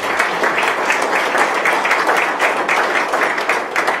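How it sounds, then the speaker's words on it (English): Loud, close audience applause at a Little Rock announcement event for a banking tech accelerator cohort, many hands clapping in a dense continuous roar that holds steady throughout without speech. "So first, let's give them a round of applause"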